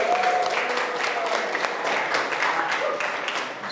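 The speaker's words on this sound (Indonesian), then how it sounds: "Oh, tepuk tangan." Students in a classroom applaud in a brief, steady round of close, dense clapping from a small group.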